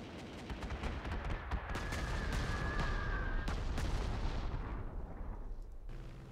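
A Stuka air attack in the WWII strategy game Panzer Corps 2 produces a steady, muffled barrage of rapid gunfire and booming impacts. It sounds distant and fairly faint, then tapers off near the end.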